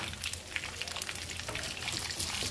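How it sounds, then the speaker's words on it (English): Shallots frying in a pan of oil with curry leaves, a dense, steady crackle and sizzle that continues without a break. "we are going to fry the shallots for about 2 to 3 minutes"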